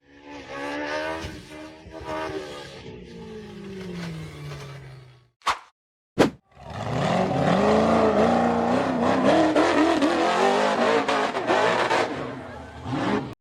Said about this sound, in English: The black buggy revved hard and charged up the vertical rock face